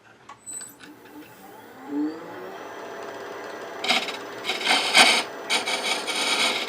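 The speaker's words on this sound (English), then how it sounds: "Scraper in the very back, just to clean up that rough edge." A wood scraper rasps against a spinning chess rook box on a lathe, cleaning a rough edge in the back recess with short scratchy bursts that grow louder toward the end over the lathe's hum.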